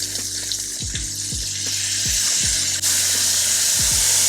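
A pork chop sears in a hot pan with a loud, continuous sizzle and frying hiss. A few soft clicks and taps sit on top of the sizzle.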